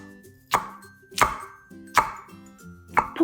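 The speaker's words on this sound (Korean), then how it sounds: "파는 흰 부분만 6cm로 토막 내서 길이로 채쳐주세요" A knife cuts the white part of green onion into thin strips on a cutting board in a home kitchen, giving four or five distinct, evenly spaced chops that are close and crisp, with no talking.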